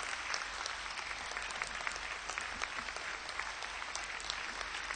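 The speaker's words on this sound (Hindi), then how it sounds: "तालियों के पुष्पों में बिल्कुल कंजूसी नहीं करेंगे" A large gathering at a Pragat Divas event in Burari claps enthusiastically in a steady, even wash of applause that holds at full strength the whole time.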